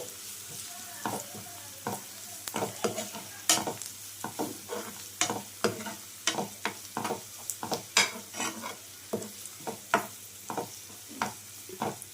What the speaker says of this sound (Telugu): ఈ అల్లం వెల్లుల్లి పేస్ట్ని బాగా కలుపుకోండి.